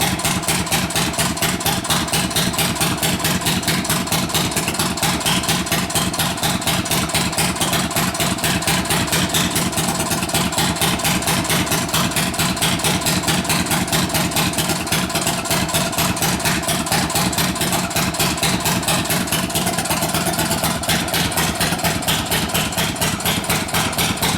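A Wade one-man drag saw engine runs without a muffler, blasting a loud, steady, rapid popping exhaust beat that continues unchanged and close throughout.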